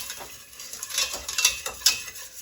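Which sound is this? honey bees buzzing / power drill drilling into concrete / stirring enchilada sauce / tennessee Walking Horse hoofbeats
stirring enchilada sauce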